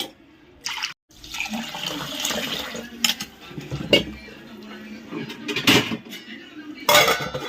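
Rice is washed in a metal pot before soaking: water sloshes and runs while the pot clanks and scrapes in loud, irregular bursts, close by and with no speech.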